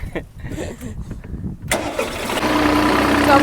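A tractor engine cranks and catches, then settles into a steady, loud rumbling idle close by, in a muddy field being planted with chilies.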